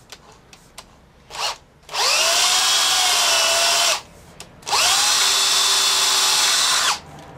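A power drill bores a centered hole through a latex resistance ball, countersunk from the other side, in two steady sustained runs of about two seconds each, loud and close, with brief handling knocks before them.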